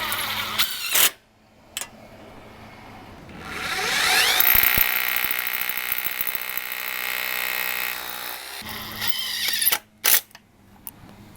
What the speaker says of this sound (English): When installing your tracks, you want to first fasten your top screw, level the track, and then mount your bottom one.